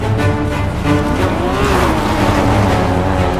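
A car engine drones loudly and steadily throughout, with revving and rushing road noise, as a vehicle arrives in a GTA roleplay game.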